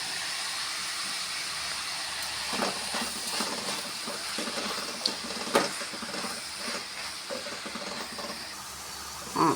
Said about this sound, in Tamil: இப்போ காய்கறிங்களாம் வதங்கிட்டுருக்குது.